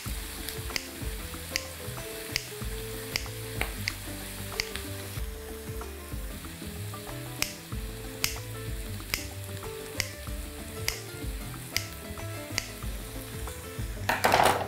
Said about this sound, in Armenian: Այս տապակի մեջ ավելացնում ենք լոլիկի ճիրը։